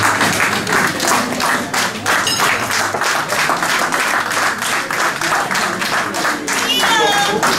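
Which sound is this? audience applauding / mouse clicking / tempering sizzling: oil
audience applauding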